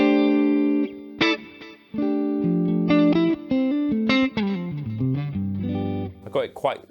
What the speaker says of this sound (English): So we've got delay, reverb.